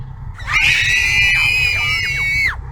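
A long, loud shriek of fright from a person, sustained for about two seconds with a wavering, piercing pitch before breaking off, close and alone.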